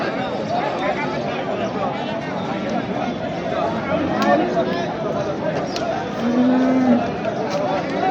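At a rural cattle market, a crowd chatters loudly and continuously while a single low moo from a bull rises briefly near the end, partly buried under the voices.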